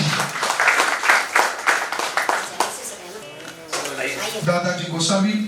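Applause at an award ceremony as a presenter is called to the stage, a burst of clapping from the audience that fades under a voice speaking over a microphone.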